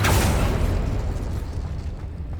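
A Confringo fire spell blasting an explosion in the wizarding game Hogwarts Legacy, a single loud, close boom at the start that rumbles and fades away over a couple of seconds, no talking.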